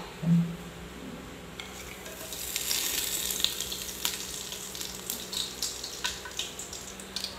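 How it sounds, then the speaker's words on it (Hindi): Curry leaves, a cinnamon piece, black cardamom and cumin seeds hit hot oil for masala dum gosht, giving a loud, steady crackling sizzle with a few light clinks of a spoon against the pan. "जब ऑयल गर्म हो जाएगा तो हम इसमें ऐड करेंगे दो कड़ी पत्ता दालचीनी का टुकड़ा एक बड़ी इलायची और एक स्पून"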